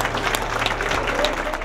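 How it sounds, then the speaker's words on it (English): Crowd in an airport terminal at Baltimore applauding arriving Honor Flight veterans, dense continuous clapping from many people with some crowd voices mixed in. "everybody was just standing there clapping"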